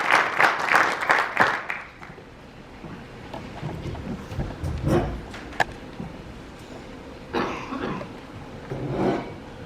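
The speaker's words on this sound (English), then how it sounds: "The gravedigger digs. It starts to rain. The gravedigger digs. It rains harder." Stage-play sound effect of rain and thunder in a school winter theatre production, a loud rushing burst at first that drops to a steadier wash of rain with rumbling swells and scattered knocks.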